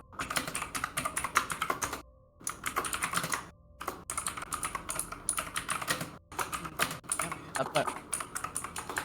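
Rapid clacky keystrokes on a mechanical keyboard run in dense bursts with a few short pauses, fairly loud and close, and a voice comes in faintly underneath.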